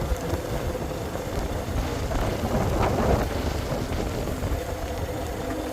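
Wind and rain batter a boat on the Great Loop in gusts of about 25 mph, a continuous rough rush that swells briefly in the middle and has no voices.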